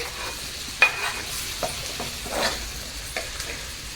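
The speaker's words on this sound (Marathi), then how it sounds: "बटर जिरा आणि अद्रक लसूण टाकलेलं आहे." Ginger, garlic and cumin frying in butter in a pan for an egg rice dish, giving a soft continuous sizzle with a few light clinks and scrapes of stirring, close and fairly quiet with no voices.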